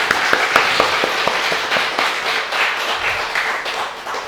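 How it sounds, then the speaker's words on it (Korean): Audience clapping at a church gospel gathering, a crisp burst of individual claps that starts sharp and distinct, then thickens into steady applause before slowly tapering. "자, 우리 모두를 위해서 다 같이 뜨거운 박수."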